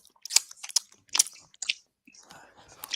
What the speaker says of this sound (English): That is loud chewing.